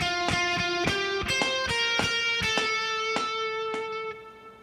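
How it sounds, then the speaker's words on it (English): Electric guitar plays a quick melodic phrase at full tempo, a rapid run of cleanly picked bright single notes, close and alone with no talk, the last note ringing out and fading. "Here's what the first phrase, phrase 11, sounds like at full speed."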